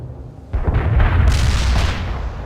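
Heavy artillery blasts and gunfire in the World in Conflict Soviet campaign hit with a loud booming impact after half a second of rumble, then roll on as a thick, close barrage.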